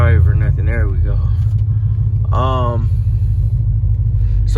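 A Chevrolet Impala's engine idles with a steady low rumble, loud and close, while someone talks over it in short bursts.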